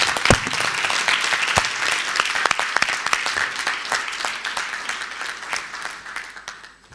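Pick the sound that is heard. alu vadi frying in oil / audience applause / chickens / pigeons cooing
audience applause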